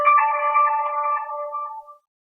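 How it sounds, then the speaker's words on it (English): A phone's notification chime rings out as a single bright, tonal electronic tone that holds steady, then fades away over about two seconds, followed by silence. "Why did my phone make a sound?"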